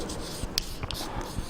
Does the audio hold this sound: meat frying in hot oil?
no